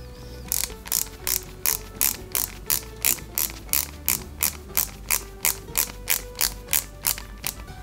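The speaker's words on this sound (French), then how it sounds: "Et pareil, on visse." Parts of an Eaglemoss Ghostbusters Ecto-1 model being screwed together, a steady run of about twenty sharp ratcheting clicks in even rhythm, close and clear with no talk.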